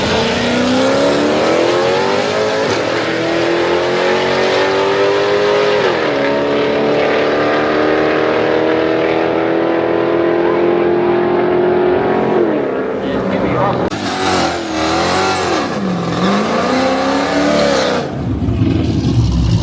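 A TorqStorm-supercharged Dodge Challenger 5.7 R/T races a Ram TRX truck, its engine roaring loudly and climbing through the revs with gear shifts, then sweeping and fading as the vehicles pass, with road and wind noise throughout.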